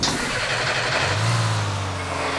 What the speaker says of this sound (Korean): 엔진 소리는 별로 좋지가 않네요.